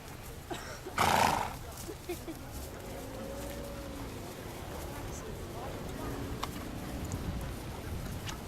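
A retired racehorse at an open day display in Middleham whinnies loudly once near the start, then hooves clip-clop faintly while a crowd murmurs and a commentator talks over a public address system.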